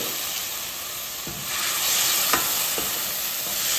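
Tomatoes fry with prawns in a pan for semiya, a continuous sizzle that swells louder midway, punctuated by a few sharp stirring scrapes against the pan, no talking.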